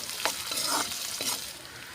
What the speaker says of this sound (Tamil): கருவேப்பிலை ஒரு கொத்தி சேர்த்தி நல்லா கிளறி விட்டு நல்லா வதங்க விட்டுடலாங்க.